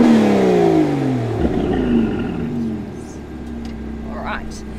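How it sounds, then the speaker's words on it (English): A rare Aston Martin engine growls in a deep, steady rev that sags slightly midway and settles into a low rumble, with faint crackles near the end and someone talking over it. "Hear that popping? The growl, I love this."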